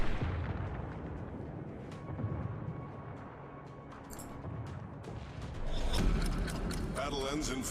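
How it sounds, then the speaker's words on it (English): Naval gunfire and shell hits rain down on the warship Des Moines in a competitive naval battle game, a dense stream of booms and bursts layered under steady commentary, swelling louder near the end. "A lot of shots incoming on the Des Moines there."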